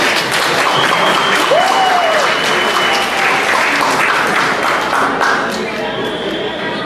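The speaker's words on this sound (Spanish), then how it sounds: "Aplausos para ellos." Wedding guests at a reception in Fort Worth, Texas applaud steadily for around seven seconds, a loud continuous patter of many hands with crowd noise and a brief whoop mixed in.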